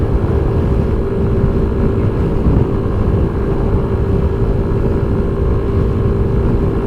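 A 2021 Kymco Agility City 125 scooter held at full throttle on a steep incline, a loud, steady, close engine drone that continues unbroken with wind rush.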